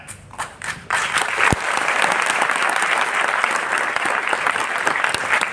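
An audience at a business training seminar in Delhi breaks into loud, sustained applause after a few scattered early claps, dense clapping holding steady to the end.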